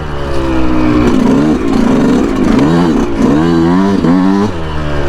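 A 2019 Yamaha YZ125 two-stroke dirt bike revs hard while being ridden, its engine rising and falling in pitch through repeated throttle blips, loud and close throughout without a break.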